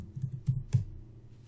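Several quiet clicks and keystrokes on a computer keyboard and mouse come in a short irregular burst, close and faint, then fade to quiet.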